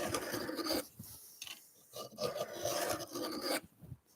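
A hand file with no handle rasps back and forth across the edge of a woodworking cabinet scraper held in a vise, shaping a rounded profile in repeated, close, fairly loud strokes with short pauses between them.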